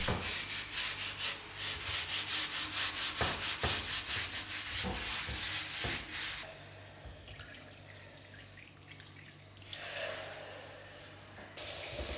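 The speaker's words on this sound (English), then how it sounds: "pour some hot water to loosen all the grime and scrub with steel wool before washing it with the soap" Steel wool scrubs a cast iron pan under hot water: fast rhythmic rasping strokes for about six seconds, then a quieter wash with running water and faint splashing, loud and close.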